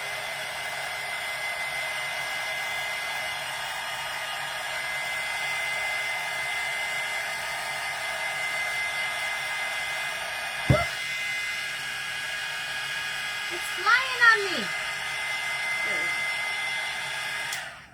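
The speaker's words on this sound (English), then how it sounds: "Let me get the dryer." A hair dryer runs with a steady high whine throughout, drying paint on papier-mâché, close by, with a few brief clicks and short bursts of sound near the end.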